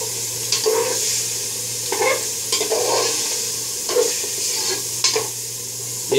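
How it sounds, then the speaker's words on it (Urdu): Tomato paste and ginger garlic paste fry with chicken keema in a pan, sizzling steadily while a spoon stirs through it in repeated scraping strokes, close and clear with no talking. "یہ میں نے ڈال دیا ٹماٹر پیسٹ اور ادرک لہسن کا پیسٹ"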